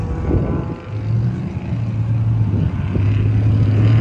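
A Jaguar XK150S engine runs steadily at the circuit, a low, continuous rumble with a droning tone that rises slightly toward the end, fairly close and loud with no talking.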